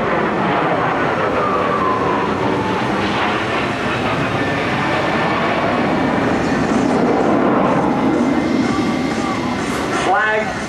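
F/A-18F Super Hornet jet making an inverted Whisper Pass at an air show, a broad sustained roar with a slowly shifting whine, loud and continuous throughout with a rising tone near the end.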